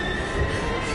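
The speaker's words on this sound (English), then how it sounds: "We've got to get on that train, Ethan." A train rushes past in the Heavy Rain video game, a dense rumbling roar of wagons with a thin squealing wheel tone, loud and close for about a second without speech.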